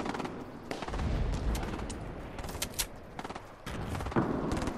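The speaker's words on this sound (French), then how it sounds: "Ouais, ça tire au fond." Distant gunfire in the Fortnite video game comes as repeated cracking shots and short bursts that keep going throughout, with thuds mixed in under a steady game background.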